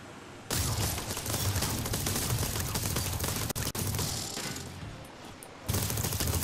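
Cannon and shotgun fire in the TerraTech vehicle combat video game make a dense, continuous roar of rapid gunfire that stays loud for several seconds, with a brief break near the middle.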